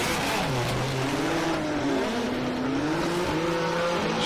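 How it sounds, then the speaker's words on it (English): Drift car engine revving at the start line of a Formula Drift Japan event at Ebisu, a loud continuous roar with wavering pitch climbing and dipping, close and unbroken throughout. "Revving up, ready to go."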